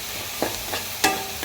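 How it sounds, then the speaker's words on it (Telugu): Mustard seeds, garlic, cumin, chillies and asafoetida crackle in hot oil for a tempering, giving a few short sizzling pops and stirring scrapes, close and fairly quiet, with no voices. "చిటికెడు ఆవాలు, వెల్లుల్లి, జీలకర్ర, వెల్లుల్లిపాయలు, మిరపకాయలు, ఇంగువ అవన్నీ వేసి పోపు అయితే చేసేసండి"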